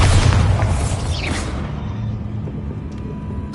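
A booming spell explosion from a Harry Potter parody, a heavy low rumble bursting loudly at the start and then decaying into a sustained roar with a descending whistle-like sweep.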